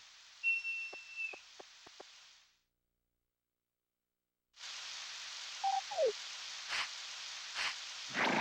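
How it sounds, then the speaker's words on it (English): Steady rain in the farming video game Harvest Moon 64, a broad hiss that cuts out for about two seconds and returns, with brief game chimes and clicks layered over it. "Rain today is also kind of annoying, but again, it's not the end of the world."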